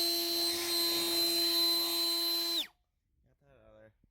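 A blower roars steadily and loud while clearing dirt out of a dump truck bed, then cuts off abruptly with a falling whine, followed by a brief stretch of quiet and faint voices.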